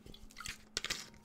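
Person sipping water, a few close, quiet wet slurps and gulps with small drips, faint and brief in a quiet room.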